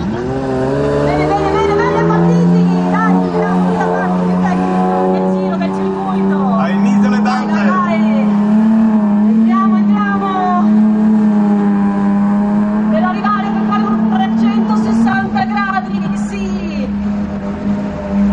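Drifting rally cars at an outdoor motor festival, loud engines droning and revving with rising and falling pitch, close and continuous, with people talking over the engine noise.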